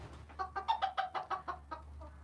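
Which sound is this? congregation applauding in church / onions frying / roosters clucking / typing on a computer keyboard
roosters clucking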